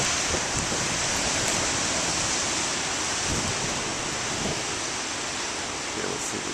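Big ocean waves break continuously on the shore, a loud, steady roar of surf with rising crashes and wash, heard alone without voices.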